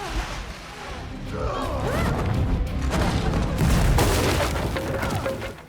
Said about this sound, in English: She accidentally steps on a trap, causing an explosion that knocks her down.